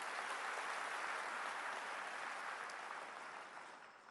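Applause from a crowd welcoming a chief minister at a government happiness festival, continuous and fairly faint, slowly fading toward the end.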